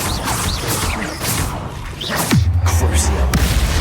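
A Bombarda blast spell going off in the Hogwarts Legacy video game, a sharp crashing burst followed by a deep rumbling boom that lingers, amid a loud layered battle soundscape with voices.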